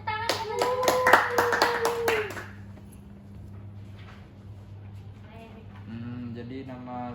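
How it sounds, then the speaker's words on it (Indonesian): Classmates in a classroom clap together in a short burst of applause lasting about two seconds, with a voice speaking during and after it. "Beri tepuk tangan teman-teman"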